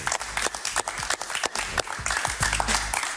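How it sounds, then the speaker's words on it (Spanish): A television studio audience claps for General Rivero, a brisk burst of close, dense applause with sharp individual claps standing out. "Un aplauso para el general Rivero"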